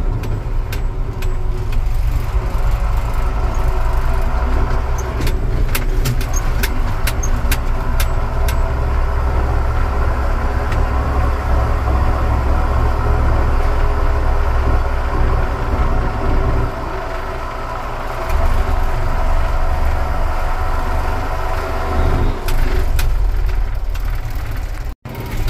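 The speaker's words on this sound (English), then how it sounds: "I'll just let you guys hear the engine work now" A John Deere 7420 tractor engine runs continuously with a loud, low rumble and rattling clatter, briefly easing off midway before resuming, with no voices.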